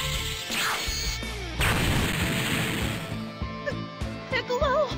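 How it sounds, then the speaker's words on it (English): An explosion in the PSP game Dragon Ball Z: Tenkaichi Tag Team, a dense crashing burst that rolls into rumbling debris before fading into game effects and a short voice. "they did the explosion thing again"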